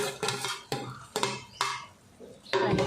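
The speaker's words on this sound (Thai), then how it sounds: "แล้วก็ใส่ผักลงไปนะคะ" Vegetables being tipped into a pan of glass noodles baked with vegetables, heard as several sharp clatters and scrapes of utensils against the pan, spaced irregularly, close and without talk.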